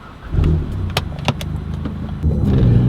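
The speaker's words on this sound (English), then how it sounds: "So let's start the car up and let's go for a quick drive." Volkswagen MK7 GTI engine turning over and catching, a short crank followed by a steady close idle rumble that swells slightly near the end, with a few sharp clicks and clunks from inside the car.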